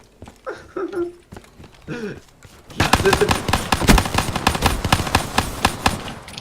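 Call of Duty Black Ops 3 gunfire erupts after a few seconds of talking: loud, rapid automatic fire with evenly spaced shots that continues steadily to the end of the clip.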